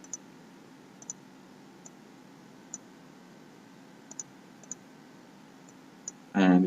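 Computer mouse clicks at a desk, sharp and faint, scattered singly and in quick pairs over low room noise, ending in a brief louder burst.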